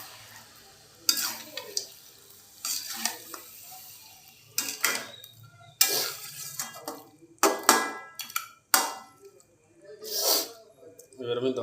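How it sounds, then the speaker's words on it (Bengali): Chicken pieces and spices stirred in a pot for dhaba-style chicken curry, with bursts of scraping and sizzling at an irregular pace, close by, with quiet pauses between strokes. "ভালো করে নাড়িয়ে চাড়িয়ে মশলাটাকে মাংসের সাথে আমি মিশিয়ে নেব।"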